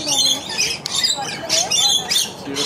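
Zoo birds squawk and screech in a scuffle at a feeding session, sharp raspy calls repeating in quick bursts close by, with a person talking over them.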